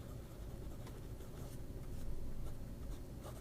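A smooth, springy Chinese fountain pen nib moves across paper in a steady run of soft, close scratching strokes. It is quiet and continuous, with no voices.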